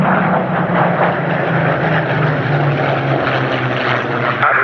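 A Supermarine Spitfire's piston engine at Sywell Airshow, a loud, close, continuous propeller drone holding steady as the fighter flies past, with no talk over it.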